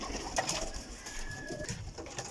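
Soft cooing of Sialkoti pearl-marked pigeons in a loft in Kotli, Azad Kashmir, faint and a little distant, over a low hum of background noise.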